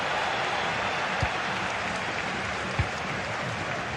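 Applause and crowd roar fill a football video game stadium as a steady, dense wash of noise, with a couple of soft thumps and no clear voices.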